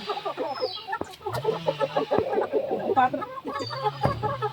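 Hens and a young rooster cluck close by in a backyard coop, a busy run of repeated, overlapping clucks and short calls that continues throughout.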